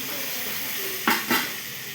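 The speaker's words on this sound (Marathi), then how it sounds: "आता फोडणी डाळ टाकून घ्यायची आहे" A sizzling tempering being mixed into masoor dal over a chulha, a steady close sizzle broken by two quick stirring scrapes.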